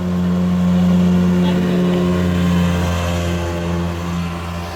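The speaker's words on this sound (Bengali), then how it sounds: "মাছ ধরার ভিতরে একটি স্পিড বোট চলে আসলো" A speedboat motor drones past on a river during shrimp fishing, its steady loud hum swelling and easing slightly as it goes by.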